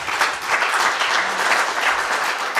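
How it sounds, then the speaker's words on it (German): Applause from a live audience greeting a guest expert on a podcast stage, a steady dense patter of many hands clapping that holds evenly for the whole stretch, with no voices over it. "Dein Applaus."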